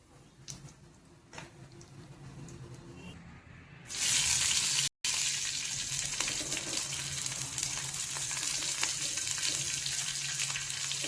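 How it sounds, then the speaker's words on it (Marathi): Cumin, garlic, peanuts and green chillies frying in oil on a hot griddle: quiet clatter at first, then a loud steady sizzle that continues without pause, no talking. "तव्यावर थोडं तेल टाकून त्यात जिरे, लसूण, शेंगदाणे आणि त्या मिरच्या टाकून छान खरपूस भाजून घ्यायचं"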